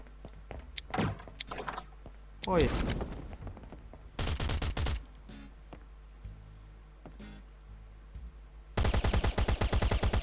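Gunfire in the video game Last Island of Survival comes as rapid automatic bursts, one long volley mid-clip and another at the end, with scattered single shots and clanks between and a voice talking over parts.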